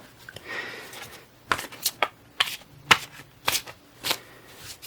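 Tarot cards being shuffled up close, a series of crisp riffling bursts and snaps in an uneven rhythm, with no talking.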